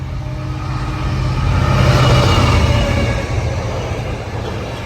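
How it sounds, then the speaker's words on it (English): A freight train passes a level crossing at Denaby, a heavy broadband rumble that swells to a peak midway and then eases off slightly, with no voices. "Freight train approaching for Daventry to Doncaster."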